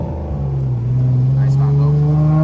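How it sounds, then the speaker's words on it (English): A Nissan 350Z Nismo engine pulls through the gears with a loud, close, rising drone that climbs steadily in pitch, with a voice heard briefly over it. "There's generally nothing like rolling through the gears."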